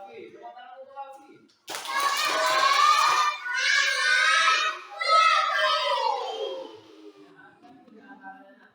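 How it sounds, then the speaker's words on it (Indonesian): A classroom of children bursts into loud, quick clapping for a classmate, coming in two or three surges mixed with excited young voices and shouts before fading. "tepuk tangan untuk Wafi"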